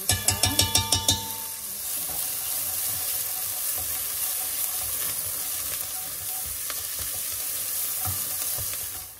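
Onions sauté in a pan with harissa, beginning with a quick run of about seven sharp taps on the pan rim, followed by a loud, steady frying sizzle and spoon-stirring scrapes, close up.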